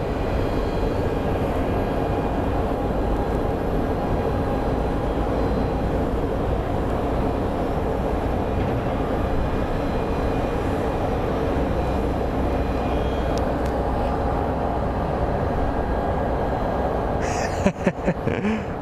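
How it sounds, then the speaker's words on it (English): An American Airlines airliner arrives at Phoenix Sky Harbor, a long, steady roar of engine noise that stays loud and even throughout, with a few brief clicks near the end. "American Airlines 1769 is up next"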